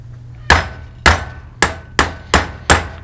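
Six sharp hammer taps ring out at a steady pace while a part is driven into a MetalCloak control arm during a rebuild. Each strike is close and crisp, with a brief metallic decay and no talking.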